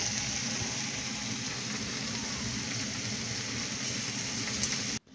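Serrano chiles and tomatoes cook for a molcajete salsa, giving a continuous soft sizzle and crackle that holds steady at moderate level before stopping sharply at the end.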